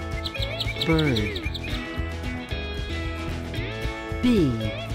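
A bird gives a quick run of bright, evenly spaced chirps, set against cheerful children's alphabet music with sliding tones.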